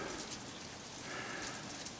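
Steady rain falls outdoors at a hot dog stand, a dense, even hiss filling the whole span with no clear individual drops or voices.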